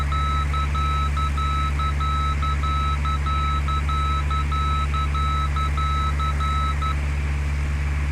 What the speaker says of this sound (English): There's the middle marker, Captain.